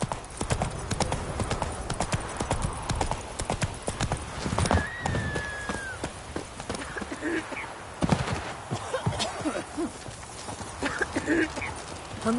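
Horse hooves clip-clopping at a steady gallop in The Witcher 3 video game, continuous and close, with a brief whinny and faint ambient sounds mixed in; a voice speaks in the clip.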